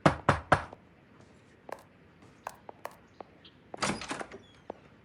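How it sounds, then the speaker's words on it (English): Heavy thuds of a door being kicked in during L.A. Noire gameplay: three loud blows up front, a scatter of smaller knocks and clunks, then a final burst of impacts as the door gives way. "Just kick in the door, it'll be fine."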